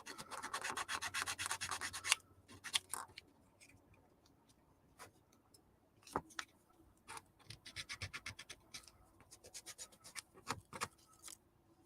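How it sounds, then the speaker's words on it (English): Sandpaper rubbing on a plastic model kit part, a Gouf Custom build, heard as close, quiet scratchy strokes in rhythmic bursts with short pauses and a few small ticks between them. "And I grab a little sandpaper. Sometimes you need a rougher grit, but this one's not too bad."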